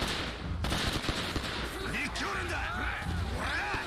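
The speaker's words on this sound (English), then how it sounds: "Oh my god, guns!" Enemy gunfire in Yakuza 0, rapid bursts of shots and impacts crowding the opening, followed by busy game sounds while voices talk over it.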